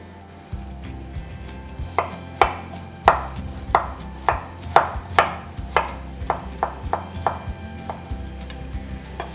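Knife chopping vegetables finely on a board for brown stock, a steady run of about fifteen crisp, close taps at an even pace, with no voices.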